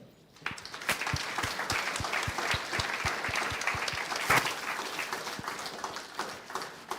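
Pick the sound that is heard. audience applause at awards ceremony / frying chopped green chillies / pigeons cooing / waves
audience applause at awards ceremony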